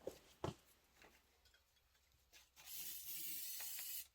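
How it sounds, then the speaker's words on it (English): A short burst of aerosol spray from a can, used to hold fabric pieces in place for machine embroidery of a cord organizer, comes in as a steady close hiss over the last second and a half after light handling sounds. "I am going to give it a little shot of spray so it's not going to move around as it is stitching those"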